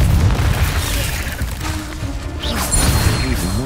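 A Confringo blasting spell explodes in the Hogwarts Legacy video game, loud booming crashes and bursts layered over dense, continuous combat noise with no pause.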